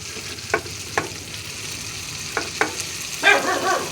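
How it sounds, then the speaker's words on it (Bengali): Chopped tomatoes sizzle in a hot pan as they are added for vegetarian ghugni, with a constant frying hiss broken by a few sharp spoon knocks and a brief burst of scraping near the end. "টমেটোটা দিয়ে দেবো,"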